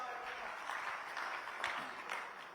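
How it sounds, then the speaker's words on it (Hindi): Audience applause greeting Chief Minister Mohan Yadav on a News18 stage event, a steady wash of many hands clapping at moderate distance, fairly even throughout with a few louder bursts. "तो जोरदार तालियों से स्वागत करिए मोहन यादव जी का।"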